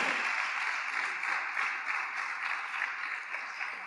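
A church congregation at a Spanish-language service claps their hands together in a sustained, even patter that continues steadily at moderate loudness without a break.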